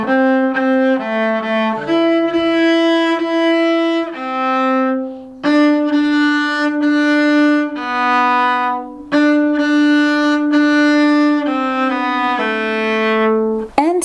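Solo cello plays the opening sequence of a song in a beginner arrangement, slow sustained bowed notes following one another with short breaks, close and clear with no talking.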